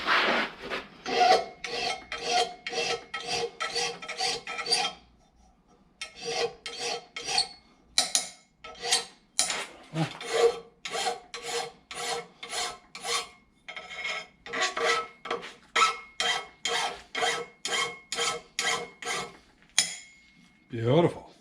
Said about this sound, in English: I'll take the hacksaw and cut the threads off so it ain't going to dig anybody